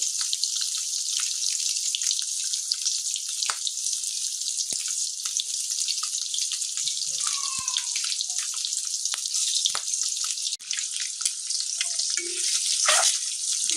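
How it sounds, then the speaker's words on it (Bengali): Eggs frying in oil in a wok, a steady loud sizzle that runs unbroken throughout with a few faint clinks and scrapes, no talking. "ডিমগুলো ভেজে নিব, কড়াইয়ে দিলাম।"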